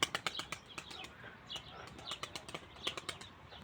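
Rapid bursts of wing flapping from a tumbler pigeon, a quick series of sharp fluttering claps, some louder and closer, with brief pauses between flurries.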